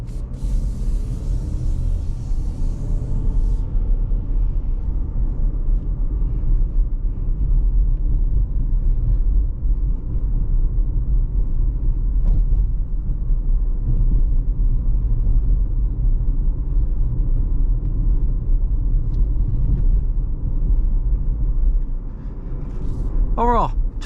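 Inside a 2023 GMC Terrain AT4 SUV on the move: a continuous low rumble of road and engine noise fills the cabin at steady loudness, with a brief higher whine at the very end.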